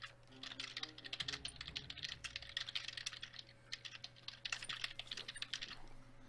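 Rapid computer keyboard typing during an online Town of Salem game, a steady flurry of clicky keystrokes close up throughout, with no voices over it.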